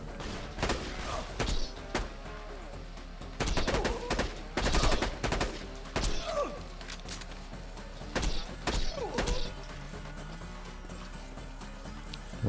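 Gunfire in Borderlands 2 from Zer0's bore shots comes in short, sharp bursts of rapid shots with brief pauses between them, loud against a low background hum.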